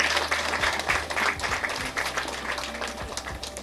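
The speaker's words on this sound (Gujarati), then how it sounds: "હેલી માટે તાળીઓ થઈ જાય" Applause from an audience at the Surat Wonder Women Award 2023 ceremony for an award winner, continuous and fairly loud, with a few sharper claps and low thumps in the mix.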